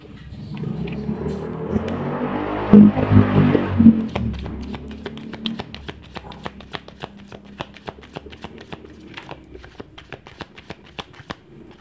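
A motorized tricycle rumbles past nearby, its engine swelling to a loud peak and then fading, followed by a rapid run of light clicking taps.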